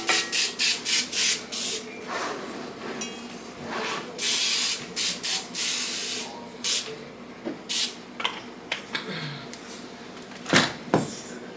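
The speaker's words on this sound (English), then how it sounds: "All right, let's spray this skillet. I'm using some Pam." Pam cooking spray sprayed onto a skillet in a home kitchen, heard as a run of short hissing bursts followed by longer sustained sprays, close and fairly loud, with faint talk in the background.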